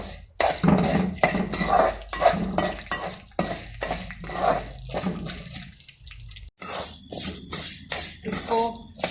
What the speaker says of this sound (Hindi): इसको 20 से 30 सेकंड के लिए ऐसे मिक्स करेंगे ताकि सारा ऑयल और नमक मकई पे लग जाए।